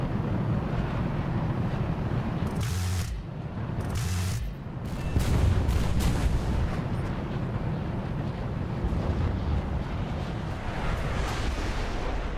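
Aircraft guns strafe ground targets in a combat flight game, a steady loud roar of engine and wind broken by a few short, sharp bursts of firing early on.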